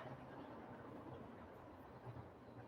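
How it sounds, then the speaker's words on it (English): A train passing nearby, a steady low rumble with a continuous grinding wash of sound, quite faint and even throughout, with no talk. "We have a train."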